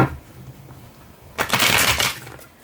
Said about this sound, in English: Oh yeah, I learned a new way to shuffle, guys.